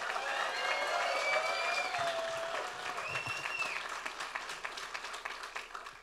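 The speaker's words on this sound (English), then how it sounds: "Let's hear a good cheer for her." Audience applause and cheering at a special announcement event, with whoops and whistles over steady clapping that thins toward the end into scattered claps.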